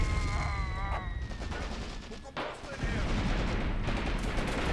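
Dense gunfire and booming grenade explosions in a nighttime war video game battle against Russian troops, with rapid overlapping shots and blasts close and loud, joined briefly by a few whistling tones.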